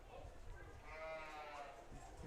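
Market goats bleat in a county fair arena, a single wavering bleat rising over crowd murmur and arena noise, with people talking nearby.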